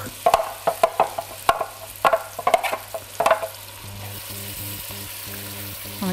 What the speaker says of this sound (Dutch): Dus nu moet de boter even heet worden en dan kan er de ui met de knoflook in.